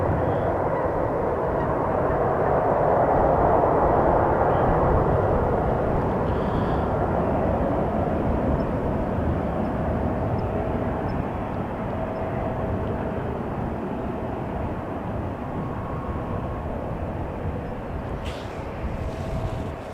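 Airbus A319 airliner departing Amsterdam Schiphol airport, a broad continuous engine roar that swells early then slowly eases, steady and loud with wind buffeting and no voices.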